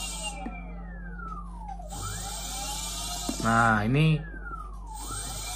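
A modified electric motorcycle's motor whines as the throttle is twisted fully open, its pitch sweeping up and falling away in repeated surges, with a brief louder strained burst near the end while someone talks over it.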